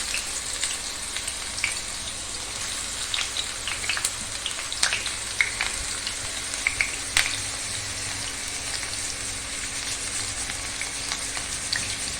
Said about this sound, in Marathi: आता हे जा तापलेलं तेलात हा कांदा टाकूया